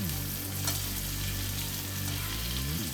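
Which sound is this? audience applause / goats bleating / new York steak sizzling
new York steak sizzling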